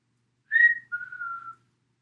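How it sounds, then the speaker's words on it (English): A person whistles two clear, close notes: a short higher tone followed by a longer, slightly lower sustained note, alone with no talking. "I'm going to try and whistle."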